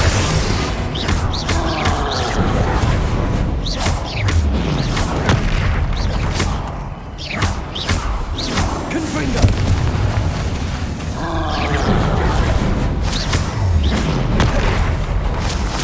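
Booming spell blasts and explosions from the Hogwarts Legacy video game fill a loud, continuous battle soundscape, with repeated heavy bursts and impacts overlapping one another amid spoken spell incantations.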